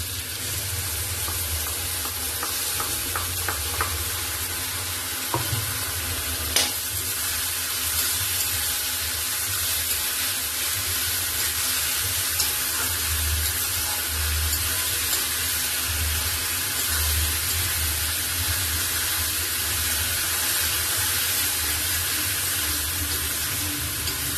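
Ginger, garlic and green chilli paste fries in a pan for chicken curry, a faint, steady sizzle with a few soft clinks and stirring scrapes and no voices.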